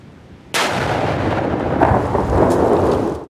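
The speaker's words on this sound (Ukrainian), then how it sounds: "На цьому відео знешкодження однієї з них на території області." A Russian cruise missile is destroyed in a controlled detonation, one sudden loud blast that rolls into a sustained, rumbling roar with crackling debris before cutting off abruptly.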